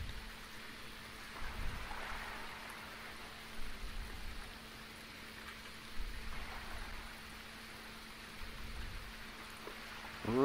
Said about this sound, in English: Rainy weather.